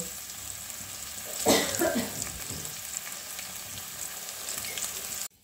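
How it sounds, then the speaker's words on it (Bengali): Potatoes sizzle steadily in hot oil while frying on one side, with a burst of louder crackling and stirring early on before the sound cuts off abruptly. "এই আলু একদিকে ভাজা হবে"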